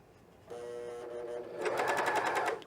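A sewing machine stitching fold-over elastic onto cotton knit underwear: a steady whirring run that shifts into a faster, louder rapid stitching rhythm partway through, close up with no talk.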